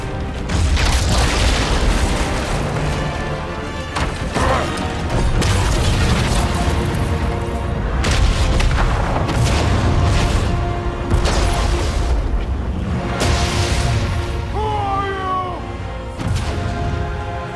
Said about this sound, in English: What was that? The bomb.